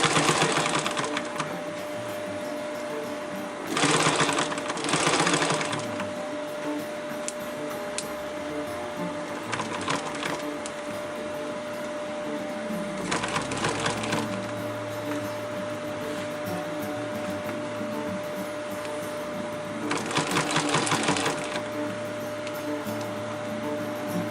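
A sewing machine stitches padding into a 50-liter rollup backpack, running in steady whirring bursts with short pauses and a few louder stretches of fast stitching, close and alone.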